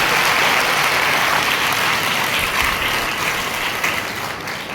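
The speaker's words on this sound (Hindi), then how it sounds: "ताली बजा के उनको धन्यवाद दें।" A congregation at a thanksgiving Mass gives steady, dense applause, a continuous wash of many hands clapping that holds strong and tapers slightly toward the end, with almost no voices.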